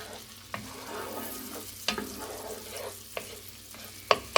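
Onions cooking in a pan over medium heat, a close continuous sizzle broken by several sharp scrapes and clacks of stirring, no voices.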